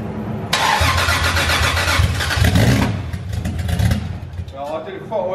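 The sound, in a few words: 2JZ-swapped BMW E36 engine first start-up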